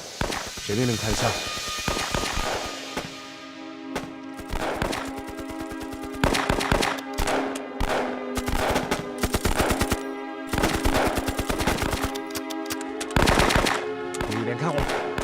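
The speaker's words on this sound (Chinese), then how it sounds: "一连开火，让机枪组拿机枪压制" Battle gunfire in a wartime drama: dense machine-gun bursts and sharp rifle shots rattle in rapid, uneven volleys throughout, loud and close, with brief gaps between bursts and shouting voices mixed in.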